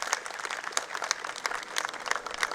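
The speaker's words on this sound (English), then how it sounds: "Please, a big round of applause for Kamlesh bhai." A room full of people applauds a company's managing director, Shri Kamlesh N. Shah, at an RKC Infra gathering, a dense, steady patter of many hands clapping together for a few seconds with no talking.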